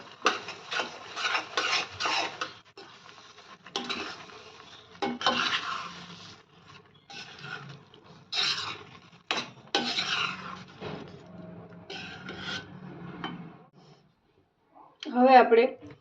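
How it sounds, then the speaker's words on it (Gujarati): A spoon scrapes and rubs through pav bhaji vegetables in a pan in repeated short, rasping strokes with pauses between them, close and fairly quiet, and a voice is faintly heard at times. "હવે એને આપણે સારી રીતે મિક્સ કરી લઈશું."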